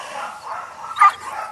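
A Dutch shepherd dog during guard and protection training gives a few close, short, whiny barks and yelps, rising to one sharper bark near the end.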